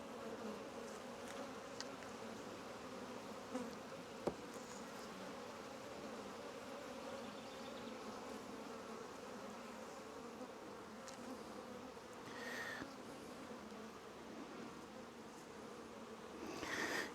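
A hive full of honeybees gives off a steady, faint buzzing drone that fills the whole stretch, with a brief click or tap near the start and a few soft higher chirps later.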